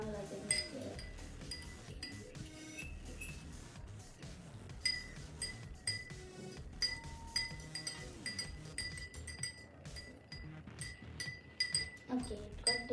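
A spoon stirs salt into water in a glass for a density experiment with a lemon, giving many quick, bright clinks against the glass in an uneven rhythm, with a voice talking quietly in the background.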